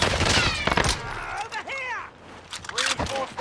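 Rapid gunfire bursts from Call of Duty Warzone Resurgence crackle loudly at the start, with scattered shots and game effects afterward as a voice talks over the action.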